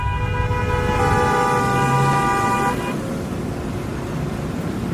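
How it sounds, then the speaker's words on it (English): Car horns in a traffic jam in Jamaica, one long steady honk held for a couple of seconds over a constant rumble of road traffic, followed by a quieter traffic wash. "Everybody a horn like the horn a go push the car."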